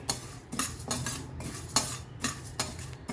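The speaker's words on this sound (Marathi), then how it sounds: "एक सारखं हलवायचं आहे इथे कारण करपू शकते भाजली ही डाळ" A spoon stirs white urad dal as it dry roasts in a pan. The grains make rhythmic scraping and rattling strokes, close and repeated about every half second, with no voice.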